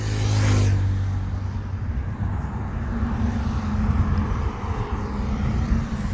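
Hyundai Eon small car driving on a road trip toward Chandigarh, a steady loud engine drone and road roar filling the whole stretch, heard from inside the cabin.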